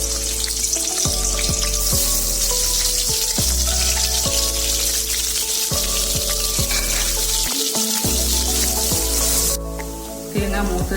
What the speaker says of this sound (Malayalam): ഈ തേങ്ങാക്കൊത്ത് വറുത്തെടുക്കണം